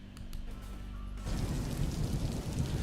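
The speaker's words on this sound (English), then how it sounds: "Sometimes it rains in paradise." Rain begins falling and quickly becomes a steady, dense hiss of drops striking surfaces nearby, with no talk over it.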